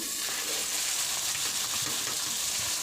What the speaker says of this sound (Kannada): ಹುರೀರಿ ಇದನ್ನು ಎಣ್ಣೆಯಲ್ಲಿ ಇಲ್ಲಿ ಚೆನ್ನಾಗಿ ಮೀಡಿಯಮ್ ಪ್ಲೇನಲ್ಲಿಟ್ಟು ಚೆನ್ನಾಗಿ ರೋಸ್ಟ್ ಮಾಡ್ತಾಯಿದ್ದೀನಿ